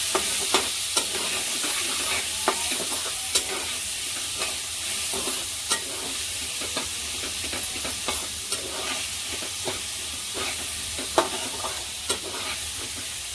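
Coriander powder and red chili powder are stirred into vegetables cooking in a pan, a steady gentle sizzle under repeated scraping strokes of a spoon, close and continuous, with no talking.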